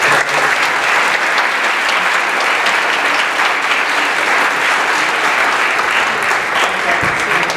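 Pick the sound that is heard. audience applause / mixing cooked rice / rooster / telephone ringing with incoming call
audience applause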